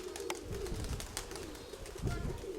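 Pigeons coo softly nearby in low, rolling bursts, with faint rustling and background noise around them.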